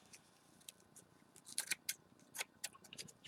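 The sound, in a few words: trimming foliage with scissors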